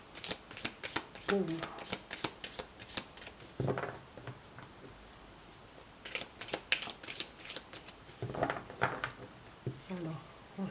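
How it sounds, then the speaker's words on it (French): Tarot cards are shuffled close by in several quick riffling bursts separated by short pauses, with a person speaking French softly between and over the shuffles. "Donc un mélange des cartes pour avoir les tendances du week-end"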